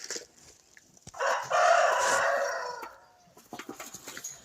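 Backyard hens being fed milk, giving a burst of loud, close clucking and squawking that swells for about two seconds then fades, with scattered softer calls and rustling after.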